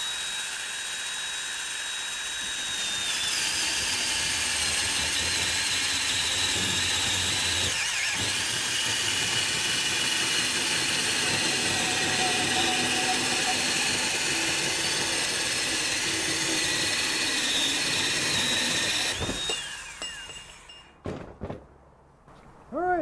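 A Bosch compact 7.3 lb band saw cuts through 2-inch rigid conduit with a loud, steady, close grinding whir lasting about twenty seconds, then winds down with a few rattles.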